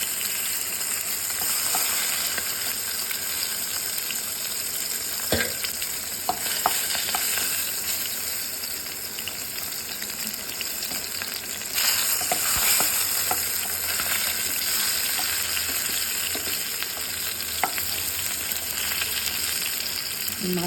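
Boal fish pieces fry in hot oil, crisping to red, with a continuous close sizzle and occasional clinks of a spatula. No one speaks.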